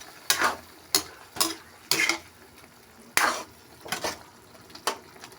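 A spoon mixes a chicken dish in a pan, with about nine evenly spaced scraping strokes over a faint sizzle, close and clear.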